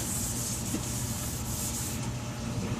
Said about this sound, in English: I'm just going to take my hand, wearing my gloves, smear it around real nice so it's nice and even all the way around.